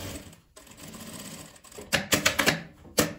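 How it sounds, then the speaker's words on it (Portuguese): A sewing machine stitches along the edge of a fabric square, running in a steady whir before breaking into short, rapid rhythmic bursts, close and clear with no talking. "Então eu venho e costuro essa beiradinha."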